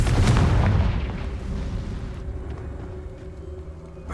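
A Confringo curse in Hogwarts Legacy bursts with a loud booming explosion that fades into a rumbling, crackling decay, with no voices.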